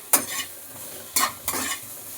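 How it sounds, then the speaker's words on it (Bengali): Onions and tomatoes stirred and frying in a pan on the stove, with three scraping strokes of a spoon over a steady sizzle, close and moderately loud. "এবার ভালো করে ভাজতে হবে এটাকে, তারপরে সজনে ফুলটা দিয়ে আবার ভালো করে নাড়াচাড়া করবো।"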